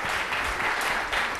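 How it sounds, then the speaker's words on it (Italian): Audience at an Italian singing award ceremony applauding a prizewinner, a short burst of steady, dense clapping with no voices over it. "Un altro applauso."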